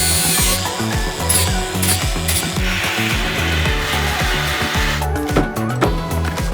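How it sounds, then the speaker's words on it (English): A power tool grinds down part of a Porsche truck bed, a loud, continuous harsh whir with rough, uneven surges and brief pulses throughout, up close and alone without talk. "I could for sure grind some of that down, so let's start with that."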